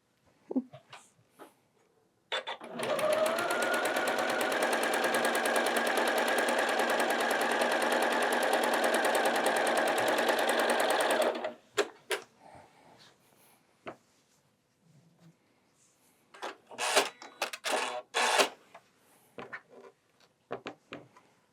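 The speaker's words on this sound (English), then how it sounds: "now we'll sew." A sewing machine stitches a garden quilt in one steady, loud continuous run of about nine seconds, followed by scattered handling clicks and rustles of fabric.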